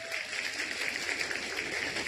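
Steady, dense clapping from a concert audience, sustained evenly throughout with no voices on top.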